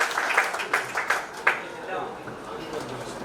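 Round of applause for Manish ji at a Rotary Club installation ceremony in Gadarwara, scattered claps of a crowd rising briefly and fading out beneath a voice speaking over it.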